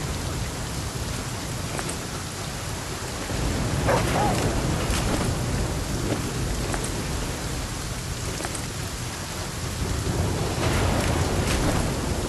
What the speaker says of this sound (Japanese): 雨っていうね。